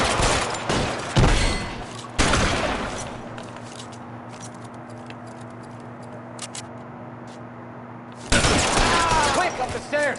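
A loud burst of video-game gunfire rattles at the start, then fades to a low background hum before another heavy burst of shots near the end; a voice talks at moments.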